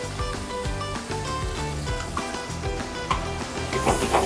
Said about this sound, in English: Now we're gonna give it a nice little saute action.